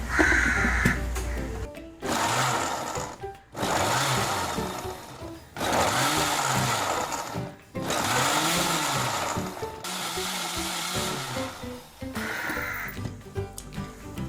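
A mixer grinder blending a thick juice with coconut milk runs in several loud whirring bursts of about two seconds each, separated by short pauses, the motor pitch rising and dropping as each run starts and stops.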